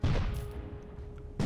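A cannon blast in the artillery game Cannon Brawl, a sharp booming shot at the start followed by a fading tail and a second loud report near the end.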